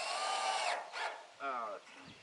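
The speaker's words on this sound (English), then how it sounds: "got me a nut driver this morning" A handheld power nut driver whirs in short bursts while building a chicken coop from recycled materials, a high steady motor whine followed by briefer spins, close and fairly loud.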